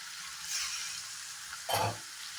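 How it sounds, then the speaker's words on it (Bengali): Chicken cooking down dry with spices in a pan, a steady frying hiss with a brief louder burst of stirring or scraping near the end, no talking. "এখন চিকেনটাকে আমি মশলার সাথে একদমই ড্রাই করে নেব।"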